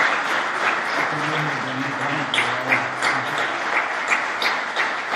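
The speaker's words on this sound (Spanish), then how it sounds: "Aplauso para ellos." Sustained audience applause at a church plenary gathering, many people clapping steadily at moderate volume, with a faint murmur of voices underneath.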